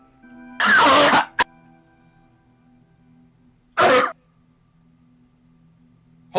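A smoker's harsh cough comes in two separate bursts, close and loud, with a short throat-clearing click after the first, over a low steady hum between them.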